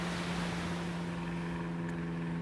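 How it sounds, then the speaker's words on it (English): Airplane passing overhead outdoors, a steady broadband engine roar with a constant low hum, fairly loud and unbroken throughout, no talking. "Oh, there's an airplane."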